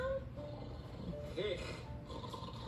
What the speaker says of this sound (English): I snore in Russian.